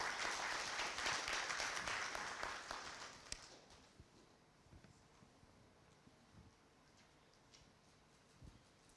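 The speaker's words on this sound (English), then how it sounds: "Big round of applause as she comes up." Conference audience applauding at a Pan African event as a speaker comes up to the stage, loud continuous clapping that fades over about three seconds into a quiet room with a few scattered claps and taps.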